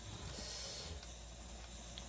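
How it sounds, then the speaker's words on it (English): Steam hisses steadily from an Instant Pot pressure cooker as it vents, a continuous close airy rush lasting the whole moment with no talking. "it seems like the steam is coming out and that thing is doing something"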